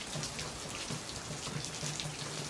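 Steady rain falls on a muddy outdoor area with puddles, an even close hiss of drops pattering on wet ground with no voices.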